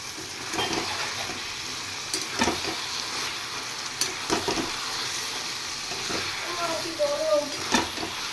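A paste of green chili, ginger and ground cumin fries in a hot pan, a continuous close sizzle broken by the scrape and clack of stirring, with a voice talking over it.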